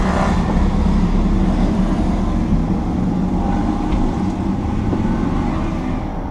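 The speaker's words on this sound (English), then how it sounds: "You can hear all the cars I'm with." A steady, loud drone of a group of car engines and road noise, heard from a Lamborghini Huracan with the windows down, fills the whole stretch, with no speech over it.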